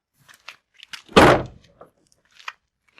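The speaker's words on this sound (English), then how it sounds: "you can close the back door" A Ford EcoSport's rear door swings shut with a single loud, solid thunk near the middle, surrounded by faint scattered clicks and handling noises.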